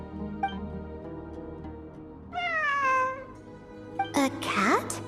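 A cat meows several times in Genshin Impact, with a short call near the start and a longer, rising-and-falling meow in the middle, then two sharper meows near the end, over soft background game music.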